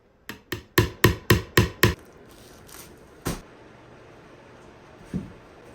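A hammer strikes a wooden canvas frame being built, seven quick sharp blows in a steady run, then a couple of isolated knocks after a pause, close and loud.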